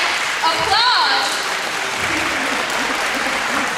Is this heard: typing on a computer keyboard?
no